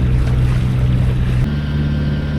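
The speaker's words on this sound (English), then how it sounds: "And we are motoring again." Sailboat motoring under engine on the open sea near Kefalonia, a loud, steady engine drone mixed with rushing water and wind, continuous and close.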